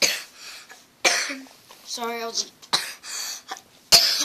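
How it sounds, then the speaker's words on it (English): Someone talks and coughs a couple of times, short harsh bursts breaking up his speech, close to the mic. "I'm starting to cough a lot."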